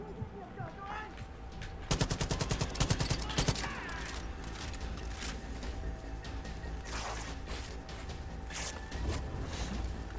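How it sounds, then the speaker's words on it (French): Enemy machine-gun fire in Far Cry 5's Hours of Darkness, with dense rapid bursts cracking out loudly over a steady game background for a second or two, then fainter scattered shots, while someone talks. "Lâche cette foutue mitraillette."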